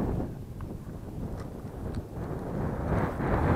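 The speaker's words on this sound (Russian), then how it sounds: "Ветер против течения." Low, blustery wind over a river blowing against the current, buffeting the microphone, a continuous rumbling roar that swells slightly toward the end, with no voices.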